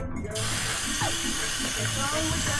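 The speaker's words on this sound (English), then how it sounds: "And then you can give it a bit of a rinse" Tap water runs steadily over a cleaned calamari being rinsed in a sink, a continuous close splashing hiss with faint voices underneath.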